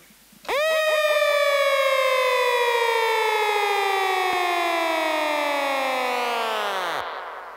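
A dub siren box sounds a single loud, sustained electronic siren tone with rich harmonics, sweeping slowly downward in pitch for about six seconds before cutting off, with no voices.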